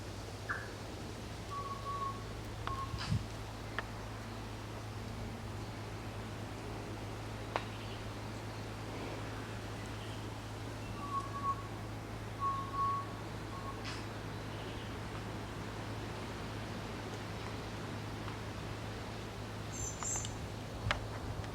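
Birds in a New Zealand nature reserve among trees: a few faint, brief chirping calls from some distance over a quiet, steady outdoor hum, with long stretches of near-stillness between them.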